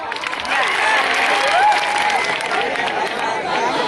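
An audience at a mushaira applauds and cheers, a sustained wash of clapping with crowd chatter and voices underneath, moderately loud throughout.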